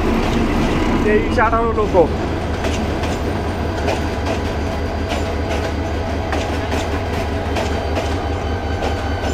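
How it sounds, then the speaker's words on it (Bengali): A Balaka passenger train from Dhaka rolls past at Gouripur Junction, a loud steady rumble of wagons with rhythmic clickety-clack and a brief squeal, while people talk nearby. "এই যে বলাকা আসতেছে। এটা ওই জারিয়া ঝাঞ্জাইল যাচ্ছে, ঢাকা থেকে আসতেছে আর কি।"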